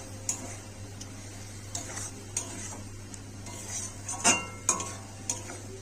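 A spoon scraping and tapping in a pan as masala spice paste for a bhetki fish curry is stirred and fried. Quiet, irregular clinks and scrapes sound over a faint low hum and soft sizzle.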